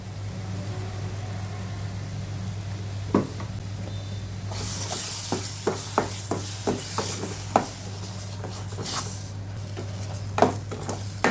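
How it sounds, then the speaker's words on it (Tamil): Ground masala with onions being sautéed and stirred in a pan for restaurant-style paneer butter masala: a soft steady sizzle under a low hum, with a string of sharp spoon scrapes and clinks against the pan. "இந்த மசாலாவை கொஞ்சம் நல்லா வதக்கிக்கிங்க"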